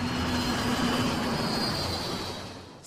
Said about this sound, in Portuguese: O som de início era só de um avião normal voando.